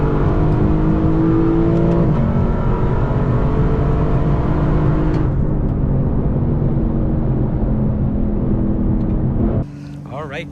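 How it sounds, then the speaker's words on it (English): A Lexus LC 500 pulls hard under acceleration, its engine note loud and close as it climbs through revs, then drops off sharply near the end. "Let me get a good acceleration for you guys"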